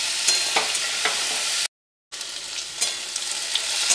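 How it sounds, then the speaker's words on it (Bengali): Onions frying in hot oil with prawns hiss in a steady, close sizzle, broken by a brief silent gap midway, with faint stirring scrapes throughout and no talk. "এটার সঙ্গে তেল দিয়ে পেঁয়াজ দিয়ে ভাজলে"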